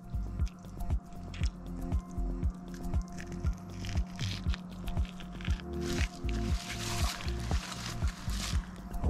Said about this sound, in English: You gotta stick your thumb down in there into the gills, because that's what you're pulling